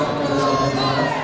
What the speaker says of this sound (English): Talk about the crowd getting behind that a little bit.